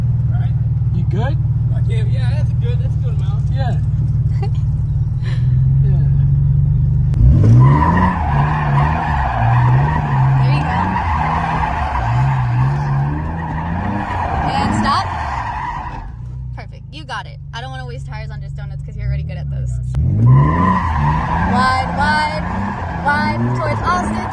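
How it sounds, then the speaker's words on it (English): An automatic car spins donuts around a single cone, its engine roaring and tires skidding in two long bursts, loud and close, with people talking over it in between. "if you want to practice donuts, you can just try to practice around the single cone."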